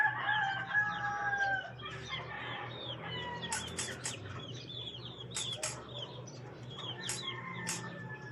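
A rooster crows repeatedly among clucking chickens at a rural home, with sharp bright calls and a few wing flaps standing out over steady low background noise.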